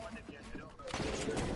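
Gunfire in the Fortnite video game, a burst of rapid shots that grows louder midway, mixed with game noise and faint background voices.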